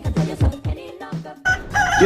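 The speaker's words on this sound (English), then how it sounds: "before the rooster crows" A rooster crows in a series of rising, strained calls, fairly close and loud, filling the whole stretch without any talking.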